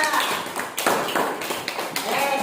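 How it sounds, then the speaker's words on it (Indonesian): Schoolchildren clap for a group of classmates during a classroom math lesson, a rapid, busy patter of small hands filling the room at close range, with some voices mixed in. "Tepuk tangan untuk kelompok 3"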